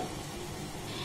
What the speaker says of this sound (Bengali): তো এইভাবে একটু নাড়াচাড়া করে নেব